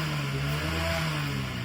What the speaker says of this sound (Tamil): பக்கத்துல ஏதோ வண்டி ஸ்டார்ட் பண்ணிக்கிட்டு இருக்காங்க